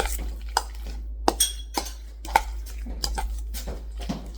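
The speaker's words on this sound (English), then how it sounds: "And again, you want to mix this up. Mix it up pretty good." Guacamole stirred and mashed in a bowl with a utensil, giving a run of close, irregular knocks and scrapes, with a few sharper clinks against the bowl and no voices.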